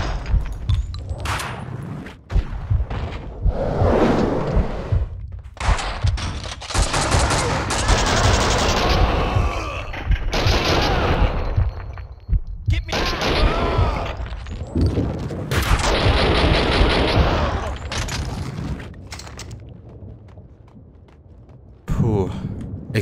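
Rapid bursts of gunfire and explosions from the video game Max Payne 2, loud and dense throughout with brief gaps, with someone talking over the shooting.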